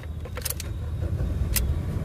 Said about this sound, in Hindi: तो एक बार पहले मैं गाड़ी को स्टार्ट कर देता हूँ।